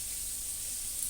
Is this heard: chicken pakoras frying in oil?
yes